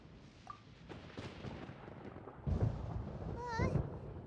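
Low rumbling thunder rolls through a stormy scene in the video game Genshin Impact, building into a deeper boom partway through, with game voices and effects layered on top.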